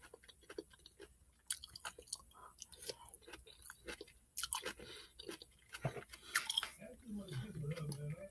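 Close, crunchy chewing of spaghetti squash with mushrooms and tomato sauce, with repeated moist bites and crunches at an irregular pace, quiet and near, with light talking in between.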